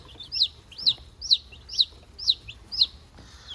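Backyard meat chickens clucking in a steady rhythm of about seven short, bright calls spaced roughly half a second apart, fairly close, with a low background hum and no talk.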